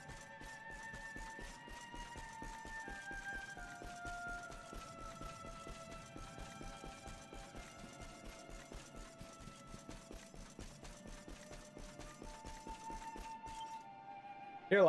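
Horse hooves clip-clopping in the Dragon Quest XI video game, a fast, steady rhythm of light, even hoof beats running the whole time under a soft, sustained game music tone, fairly faint.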